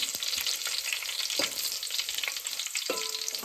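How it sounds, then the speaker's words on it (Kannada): Garlic fries slowly in hot oil, a dense, even hiss of sizzling with a few soft stirring taps, close and continuous with no voices. "ಬೆಳ್ಳುಳ್ಳಿ ಸ್ಲೋ ಆಗಿ ಫ್ರೈ ಮಾಡ್ಕೊಂಡು"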